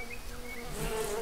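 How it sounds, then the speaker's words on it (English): Bees buzz continuously in the survival game Green Hell in a dense, steady drone, fairly close, with no talking over it. "bees."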